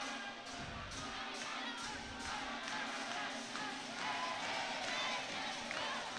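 Starters on a high school basketball bench on their feet cheering for teammates late in a home game against Lowell, a roaring crowd with shouts rising over steady rhythmic thumps in a gym.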